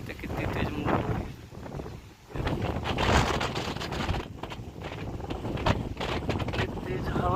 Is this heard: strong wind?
yes